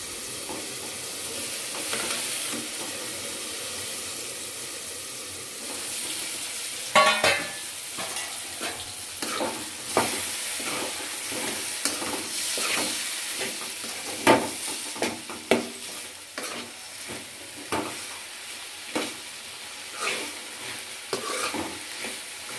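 Tomato and ridge gourd chutney cooks in a pan with a steady sizzle while a utensil scrapes and stirs in repeated sharp strokes, close and clear, with no talk.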